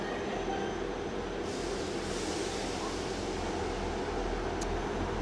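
A Class 159 diesel train at Exeter St Davids station rumbles steadily with a low, continuous drone and faint rail noise, heard from moderately close on the platform with no talk over it.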